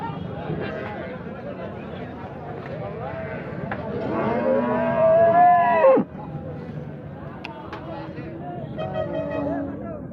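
Cattle at a busy market: a loud, drawn-out moo from nearby rises and cuts off sharply, with people talking and chattering throughout.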